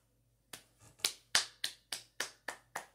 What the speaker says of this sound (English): Clap their hands, clap your hands.